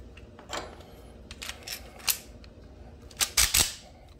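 Rifle rounds clicking into a magazine through an ETS C.A.M. loader, a series of sharp plastic and metal clacks and slides at irregular intervals, close up with quiet gaps between.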